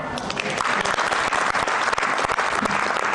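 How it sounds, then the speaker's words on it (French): Party supporters of the Convergence patriotique pour la justice et l'équité applauding a political announcement in Tivaouane, loud dense clapping with sharp individual claps, sustained throughout and close to the microphone. "Une annonce accueillie par les applaudissements des militants de la Convergence patriotique pour la justice et l'équité"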